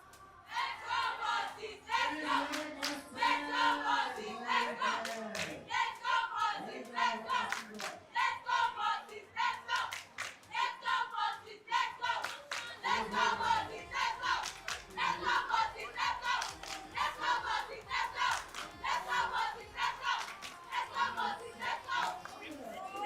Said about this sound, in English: Do you guys want to hype out the crowd a bit right now?